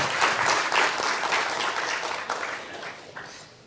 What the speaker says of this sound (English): please, a big round of applause for Commodore Shrikant Kesno.